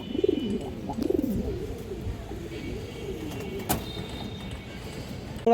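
Black-necked pigeons coo at a pigeon farm, several close, soft rolling coos in repeated bursts with a few brief knocks and background noise between them.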